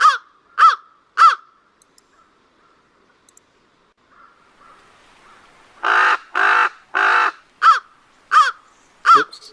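Recorded crow and raven calls play back together: three sharp crow caws, a quiet pause, then three longer, harsher raven croaks followed by four more crow caws, loud and close.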